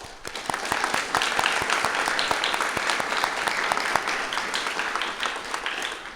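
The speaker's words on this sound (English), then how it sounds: "Let's give her a round of applause and say thank you." Applause from an audience at an award ceremony, with individual sharp claps standing out over a steady bed of clapping, holding fairly constant before easing off near the end.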